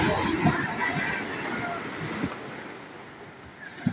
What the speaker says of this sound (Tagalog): Sobrang pagdaluyo ng alon.